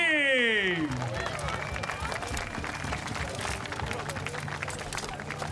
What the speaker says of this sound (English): Round of applause to the New Zealand team.